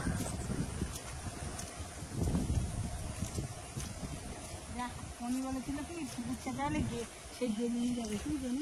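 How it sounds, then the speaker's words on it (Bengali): Strong wind blows steadily around an open rural homestead beside a fish pond, a rough, constant rush buffeting the microphone while people talk over it. "বাবা কি হাওয়া!"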